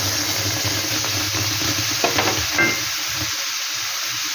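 Ripe mango paste dropped into semolina frying in a pan, giving a steady sizzle with stirring scrapes and a couple of brief splatters partway through.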